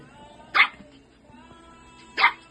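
Brad Pitt, a shih tzu, lets out two sharp, angry barks about a second and a half apart, loud and close, with faint background noise between them.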